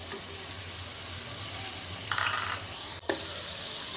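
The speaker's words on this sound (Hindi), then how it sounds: "अच्छी तरह हम इसको फ्राई कर रहे हैं" Chicken, onion, garlic and ginger frying in a pan make a continuous moderate sizzle, broken by a couple of brief spatula scrapes and a clatter near the end, with no one talking.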